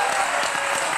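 A television studio audience applauds a magician, steady dense clapping filling the whole brief moment at moderate loudness.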